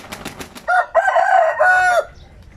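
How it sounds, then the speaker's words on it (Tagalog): A young rooster, about eleven months old and newly bought, crows in a few harmonic calls that rise and hold before breaking off, loud and close. Some brief rustling comes before the crow, and there is no talk. "Gwapo kayo nga manok eh."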